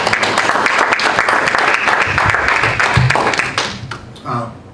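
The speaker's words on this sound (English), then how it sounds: "round of applause for that." Board of Education meeting audience applauds an educator's recognition, loud close clapping from a room of people that thins and fades near the end as a voice briefly comes in.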